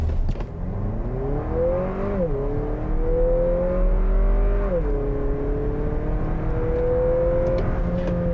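A Lexus NX 350 F-Sport turbocharged SUV accelerates hard from 0 to 60 mph, its engine note climbing steadily through the gears with brief dips at each shift, loud and continuous throughout with no talking.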